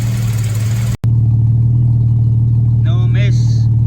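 A classic car's engine idling steadily, heard close from the rear exhaust pipe, loud and even with a low rumble, briefly cut out once, then a voice speaks over it near the end.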